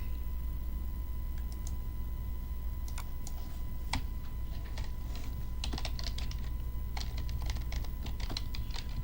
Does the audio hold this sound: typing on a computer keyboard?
yes